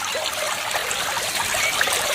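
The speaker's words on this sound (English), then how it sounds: "water began to bubble up, filling the river once more" Water bubbling up and trickling into a riverbed, a close, busy gurgle and dribble that runs steadily with no pause and no voices.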